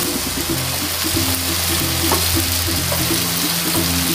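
Sautéed ingredients fry in a pan, turning crisp, with a steady, loud, dense sizzle throughout, close up and with no talking.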